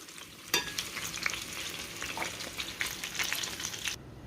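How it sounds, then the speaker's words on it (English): Minced garlic sizzles in leftover butter in a skillet, a steady close frying crackle with stirring scrapes starting abruptly after a brief quiet moment and cutting off near the end. "Into the remaining butter that's in this skillet, I'm just going to add some minced garlic."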